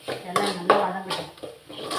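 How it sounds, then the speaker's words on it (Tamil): Spoon scraping and clinking against a pan while tomatoes, chilli powder and spices sauté for a lunch thokku, a few close, irregular metallic knocks over a soft sizzle. "எல்லாம் நல்லா வதங்கட்டும்."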